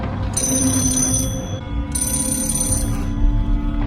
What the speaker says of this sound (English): briefly looks at one of those cool see-through phones from the 90s when it rings.